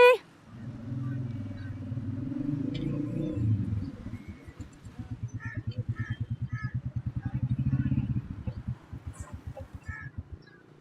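A battered old motorcycle pulling up on a road, its engine droning then settling into a steady, rapid idle thump for several seconds, close by with voices over it.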